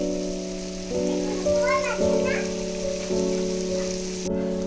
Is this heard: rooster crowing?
no